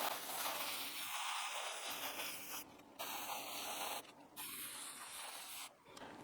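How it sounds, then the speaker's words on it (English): Several hissing bursts of a spray bottle misting a moss pole, close and steady, separated by short pauses. "I will spray that as well"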